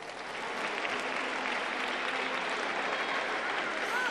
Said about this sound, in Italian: Un applauso ci starebbe bene.